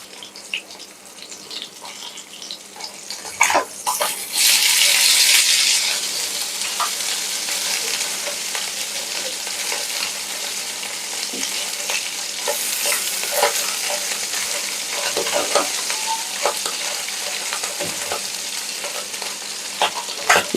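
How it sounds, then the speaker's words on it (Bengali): Fish fries in oil in a village kitchen on a rainy day, giving a loud, steady sizzle that runs throughout, with brief bursts of stronger spitting and occasional clinks and scrapes as the pieces are stirred. "মাছ অল্প এনেছে ভাজার জন্য"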